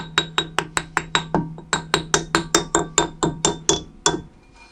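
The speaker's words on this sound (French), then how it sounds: "Donc on prend un maillet." A mallet taps repeatedly on a drum brake part during reassembly, about twenty sharp, ringing metallic knocks in a quick, steady rhythm, close and clear, with a steady hum underneath.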